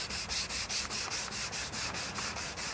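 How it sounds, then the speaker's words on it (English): Sandpaper rubbing over the already-textured surface of a shuttle bus roof escape vent during an RV conversion, a steady run of close, rhythmic back-and-forth scrubbing strokes, roughly four per second, with no voices. "So we just need to get this sanded down"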